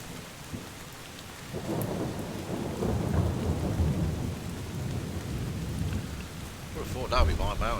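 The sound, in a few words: thunderstorm with rain in the video game Drizzlepath: Genie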